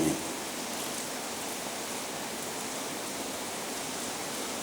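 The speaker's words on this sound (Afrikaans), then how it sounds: "wanneer ons die reën daar buite hoor val, dan weet ons u sorg vir ons." Rain falling outside a country church among maize fields, a steady even hiss of drops on surfaces that stays constant throughout, with no voices.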